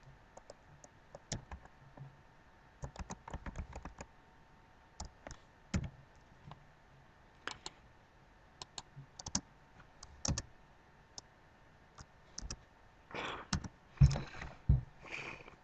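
Scattered bursts of clicky keystrokes on a computer keyboard, fairly quiet and close, with short pauses between runs of typing and a denser flurry near the end; no voices.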